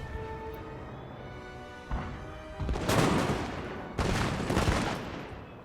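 Musket volleys in a Napoleon Total War battle, musketeers of the 10th Regiment of Foot against militia: two loud, ragged bursts of massed gunfire crackle out over a low rumbling battlefield din.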